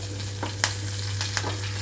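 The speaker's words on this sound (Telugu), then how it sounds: "తాలింపు గింజలు, ఎండుమిరపకాయలు మొత్తం వేసి వేయించుకుంటున్నాను." Tempering seeds, dried red chillies, a pinch of asafoetida and curry leaf sprigs crackle in hot oil, a close continuous sizzle with a few sharp stirring scrapes over a low steady hum.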